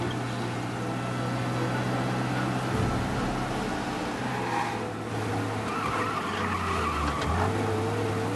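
A car engine drones steadily at speed in the video game Mafia, with pitch shifts as it shifts gears and brief tire skids, no talking.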